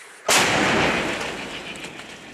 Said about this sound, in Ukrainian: Розрахунок італійської гаубиці Мелара наводить зброю на ціль і чекає на команду командира.